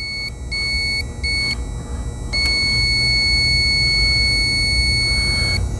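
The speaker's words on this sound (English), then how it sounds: "by the audio beep, you can tell if this is working or not" A high electronic beep from a go/no-go electrical tester sounds in short pulses, then holds as a long continuous tone over a low background hum.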